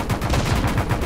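Rapid bursts of gunfire from an enemy fighter aircraft in the game Stormworks, a fast rhythmic rattle of repeated shots, loud and continuous through the moment.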